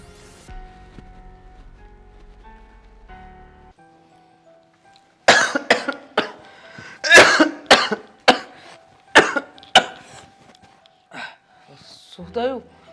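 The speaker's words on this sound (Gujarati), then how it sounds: "કેમ આમ અચાનક ખાંસી ખાય છે?" A run of about eight harsh coughs comes in quick succession, loud and close, after a quiet stretch of low background hum. A voice follows at the end.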